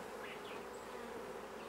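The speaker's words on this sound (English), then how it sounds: "sweep the bees back into the hive using a brush" Honeybees buzz steadily around an open hive during a honey harvest in Fiji, a dense, close drone holding even throughout with no pauses.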